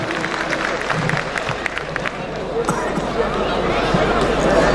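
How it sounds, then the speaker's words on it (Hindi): Sustained audience applause fills a hall at the golden jubilee celebration of a Mithila cultural association, a steady crackling wash mixed with crowd noise and talking. "जोरदार ताली।"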